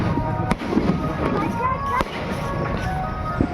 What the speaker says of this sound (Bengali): কত বাজি ফুটাচ্ছে দেখো, জাস্ট আকাশের মধ্যে দেখে তো খুবই মজা লাগছে।